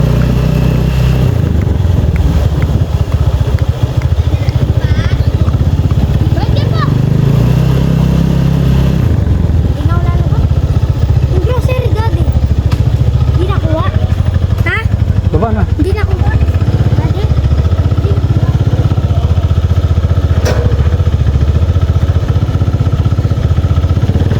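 Steady low engine rumble of a motorcycle running throughout, with a voice talking intermittently over it.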